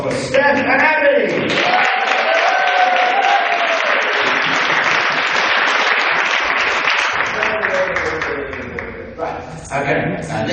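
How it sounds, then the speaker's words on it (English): Enthusiastic audience applause inside St Mary's Church in Benfleet during a fundraising concert, a thick burst of clapping with some cheers and whoops, with voices audible over it near the start and end. "Special round of applause for Steph and Abby."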